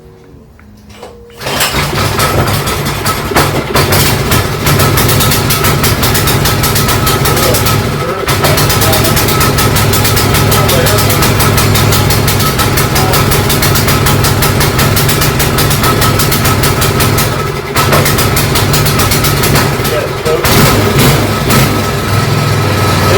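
A 6.5hp Thai long tail boat motor is pulled to start after a brief quiet moment. It catches and runs loud and steady with a rough, buzzing drone, dipping briefly a few times and then settling in.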